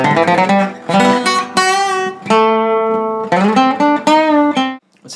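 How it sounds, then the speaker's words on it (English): A quick electric guitar riff of several chords and rapid upstrokes, loud and close, with brief pauses between phrases. "The transition before the solo features a quick little riff."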